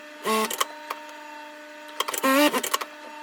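A sewing machine stitches the side seams of a loose viscose dress in two short whirring bursts, each about a quarter second, with small clicks between them in an otherwise quiet room.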